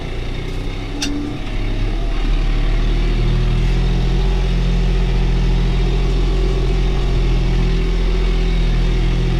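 A tractor pulling a TT4.65 cultivator through a field in oat stubble gives a loud, steady low engine drone with a constant rumbling hum throughout, close by and alone.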